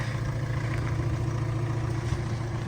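A 2013 Opel Astra J 1.7 CDTi diesel engine with 211,000 km idles with a steady, even low rumble and drone, close and continuous throughout.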